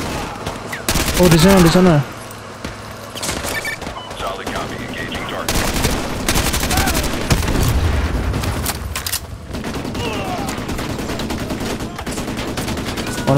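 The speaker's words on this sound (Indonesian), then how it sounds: "Aduh, aduh, mana yang nembak?" Gunfire in Call of Duty Modern Warfare 2 Remastered, a dense stretch of repeated bursts and booms that runs throughout, loud and close, with an excited voice talking over parts of it.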